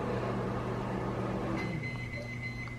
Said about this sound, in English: My microwave is running.